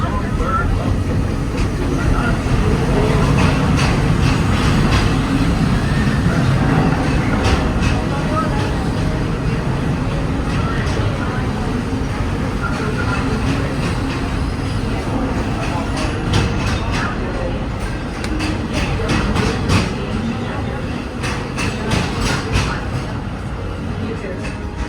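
The Walt Disney World Railroad train rolls steadily along its tracks, a continuous loud rumble with clattering wheels. A narrator's voice plays over the noise throughout the ride.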